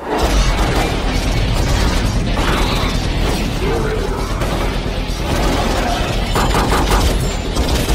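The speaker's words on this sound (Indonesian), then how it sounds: "mereka pun kembali menembaki zombie itu" Sustained gunfire rattles in a zombie-fight scene from a Resident Evil film, dense rapid bursts of shots and mechanical clatter, loud and continuous over a heavy low rumble.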